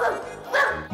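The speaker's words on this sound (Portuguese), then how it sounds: "no caminho até a escola tem um cachorrinho." A small dog on the way to school gives two quick, bright barks close by, loud and alone in a short burst.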